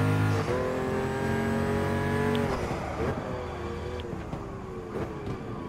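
Pagani Huayra mid-engine hypercar in the video game Gran Turismo Sport: a loud, close engine drone whose pitch holds, then drops as the revs fall, settling into a rougher running note.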